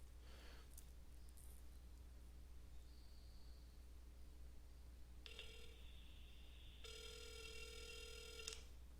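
Two short electronic tones from a phone line during a test call, the second one longer, heard alone against faint steady background hiss.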